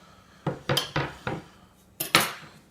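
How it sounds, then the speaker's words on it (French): A cutting board is set down in a kitchen during brioche roll preparation, giving a series of close, sharp knocks and clatters: four quick hard impacts, a short pause, then two more. No voices. "On prend une planche à découper"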